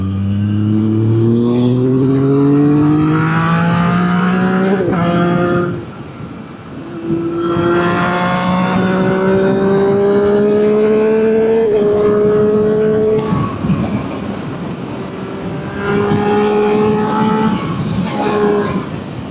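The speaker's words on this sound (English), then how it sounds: "That rasp that you get off this can, it's absolutely fantastic." A Triumph Street Triple 765RS motorcycle being ridden, its exhaust rasping loudly and close. Revs climb steeply through several gears with brief dips at each shift, sustained throughout.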